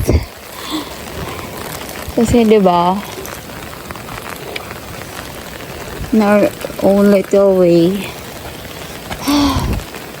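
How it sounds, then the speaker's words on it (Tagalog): Heavy typhoon rain hisses steadily during a mountain trek to Mt. Pinatubo, a dense wash of noise that never stops, while a person speaks in short bursts over it. "Malakas na pala yung ulan guys."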